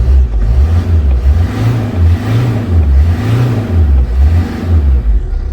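Ford Transit Connect engine running after an EGR valve repair, a loud close idle with a steady hum and a regular rhythmic swell roughly every second, heard alone without talk.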